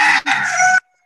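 A rooster crows loud and close in one harsh, drawn-out call of about a second, with a brief catch partway through, then silence.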